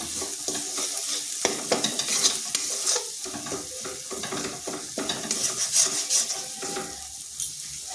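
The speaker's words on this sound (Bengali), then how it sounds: "জিরে গুঁড়ো ধনে গুঁড়ো লঙ্কার গুঁড়ো হলুদ গুঁড়ো মশলাটা একটু কষে নিচ্ছি" Ground cumin, coriander, chili and turmeric fry in a pan to the sound of continuous stirring and scraping over a bright sizzle, with irregular utensil knocks against the pan.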